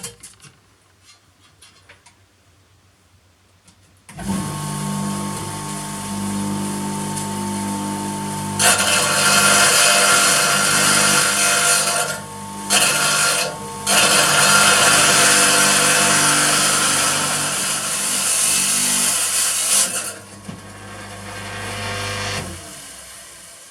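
A power saw trims a Cullinan Diamond replica, starting abruptly and holding a loud, steady whine for about sixteen seconds with brief dips and a short stop partway through, then cutting off.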